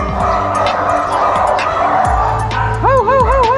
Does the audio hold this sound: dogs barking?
yes